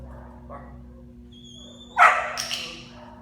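A 17-week-old black German Shepherd puppy in obedience training for protection work lets out one loud, sharp bark on command, followed by a shorter second yelp, after a quiet stretch.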